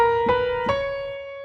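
A short piano riff from a song: a sustained note rings and two quick struck notes fall into it, close and clear, alone over about a second and a half.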